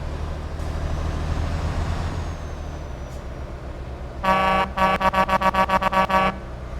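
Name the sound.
MAN truck engine in Euro Truck Simulator 2 video game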